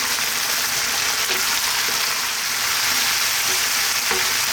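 Chicken vegetable curry with chili sizzles loudly in a pan over high heat, a steady dense crackle with occasional scrapes of stirring, no voices.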